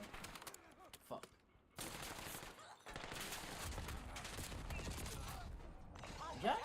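Rapid video game gunfire rattles in bursts and sustained fusillades, the shots dense and fairly close, with a short lull before the firing resumes.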